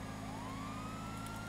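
A wailing emergency siren rises steadily in a racing video game, heard alone over a constant engine-like hum with no talk.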